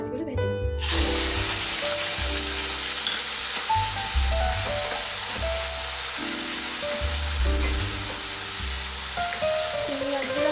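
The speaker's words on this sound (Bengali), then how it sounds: "তেলটা গরম হয়ে গেছে, এবার আমি চিংড়ি মাছগুলো ভেজে নেব।" Shrimp fry in hot mustard oil, a loud, continuous sizzle that starts abruptly and holds steady close up, with a low background hum and music underneath.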